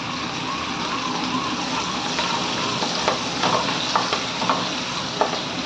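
Chopped onion sizzling steadily in hot oil with cumin seeds in a pan for veg biryani, a dense continuous fry with a few stirring scrapes on top, close and constant.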